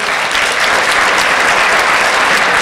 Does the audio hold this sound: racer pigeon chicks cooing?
no